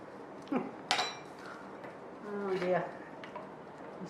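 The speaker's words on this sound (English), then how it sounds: "Give that a stir and see where we're up to with the blue." A spoon stirring and clinking against a pot of blue-coloured candle wax, a few faint knocks and scrapes spaced apart, heard quietly with soft room noise and a little talk.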